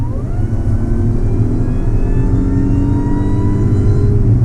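A supercharged Audi A6 Quattro 3.0T engine revs under acceleration, a loud, close, continuous drone whose pitch climbs steadily with a whining supercharger tone above it.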